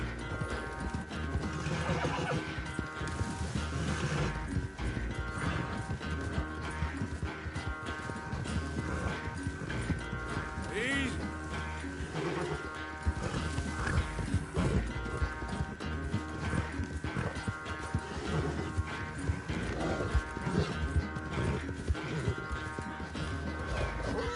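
Horse hooves clip-clop steadily in Red Dead Redemption 2 gameplay, with occasional whinnies and a busy game soundtrack continuously underneath throughout.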